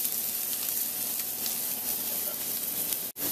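A steak sizzles steadily and loudly as it pan-roasts, the hiss and crackle continuous and close, breaking for a brief moment near the end.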